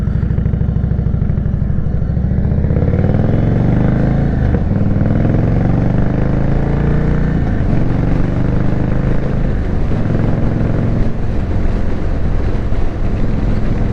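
A motorcycle engine drones loudly and steadily while riding on an open road, its pitch climbing and falling through gear changes, with heavy wind rush over the microphone throughout.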